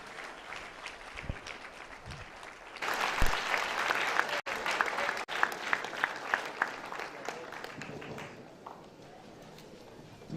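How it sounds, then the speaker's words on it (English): Audience applause for a guest lecturer at a university event swells suddenly after a quieter opening, sustaining as dense clapping with a few sharper claps before tapering off near the end. "another round of applause for the guest lecturer"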